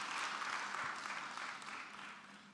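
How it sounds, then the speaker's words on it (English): Audience applause for a deputy minister at a Gauteng contractor development roadshow, a dense steady wash of clapping heard alone that tapers off toward the end. "round of applause?"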